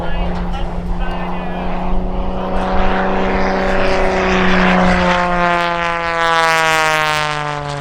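A propeller plane flying low aerobatics at an air show drones loudly overhead, its engine pitch sliding down as it passes close by, with a voice talking over the roar.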